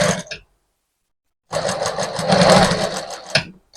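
Sewing machine stitching the body of a gamis dress, a loud close mechanical whir in two bursts with a brief silent pause between, running steadily alone.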